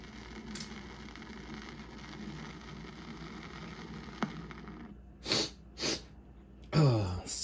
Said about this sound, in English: I think I sneezed like 3 or 4 times.